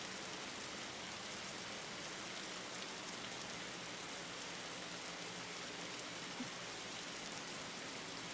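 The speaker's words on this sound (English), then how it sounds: "It's still going to be raining until the end of this race" Steady rain hisses throughout a race in a racing video game, a dense, even wash of droplets with no break or voices.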